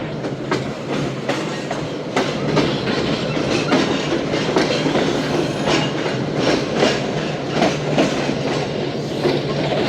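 Shalimar Express train running along the tracks, a steady loud rumble with repeated rhythmic clickety-clack of wheels over rail joints throughout, heard from on board.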